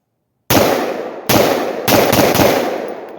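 Three sharp, loud 5.56 rifle shots fired from an 11.5 inch barrel, each a close crack followed by a ringing decay, spaced roughly a second apart with no talking.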